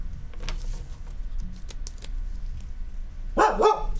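A dog barks twice in quick succession near the end, close and fairly loud, after a stretch of light tapping and clicking around a tabletop card game.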